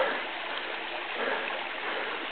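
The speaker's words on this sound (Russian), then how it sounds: "И вон он, водопад." The waterfall on the mountain river Dederkoy, in August, gives a steady, even rush of falling water at a moderate distance. No voices are heard over it.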